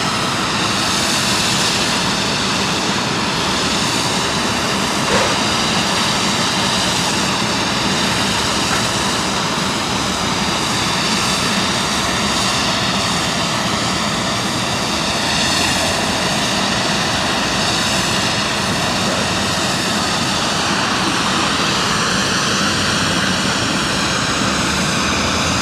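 A DHL cargo jet at East Midlands Airport roars continuously and loudly from nearby, its engine's broadband rumble and whine holding steady with no break, and no voices.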